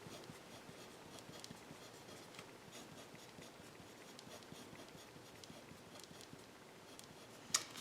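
An equation is written out by hand in a quiet room, heard as faint, steady pen or marker strokes with small ticks and one sharp tap near the end. No one speaks.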